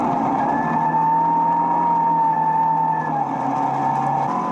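Race car lapping a wet circuit at Castellet, its engine holding a steady, loud sustained tone close by, dipping slightly in pitch near the end, with no talk over it.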